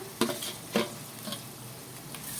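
Onion and ginger sautéing in a pan for chicken curry: a quiet, even sizzle with a few distinct clinks and scrapes of stirring near the start; nobody speaks.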